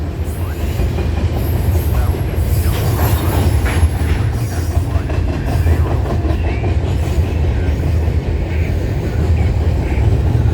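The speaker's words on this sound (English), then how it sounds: "We have an intermodal now." Intermodal freight train passing close at night, a steady loud rumble of wheels on rail with rhythmic clickety-clack and occasional high squeals, continuous throughout without talk.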